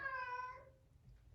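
Cat giving a single drawn-out, tonal meow that fades after about half a second over a quiet low background hum.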